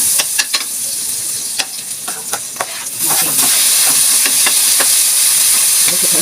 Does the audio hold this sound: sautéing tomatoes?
yes